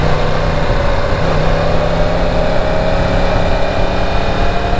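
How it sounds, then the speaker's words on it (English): A 2018 Yamaha R1 crossplane engine runs steadily with a loud, continuous drone and a slowly rising tone as it is wound up, close and constant with no voices. "Crossplane engines likes to be wound up."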